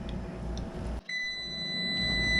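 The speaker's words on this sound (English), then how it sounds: "Well, the timer's going off." A kitchen timer goes off while rice cooks: after a quiet stretch of faint room noise, a thin steady electronic beep tone starts and holds, soft and close, with no talk.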